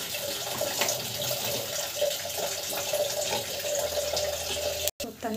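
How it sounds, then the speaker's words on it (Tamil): Water streams steadily into a cooking pan while carrot rava kichdi is being made, a constant close splashing wash with faint background talk. "தண்ணி தேவையான அளவுக்கு தண்ணி வந்து போட்டுக்கோங்க."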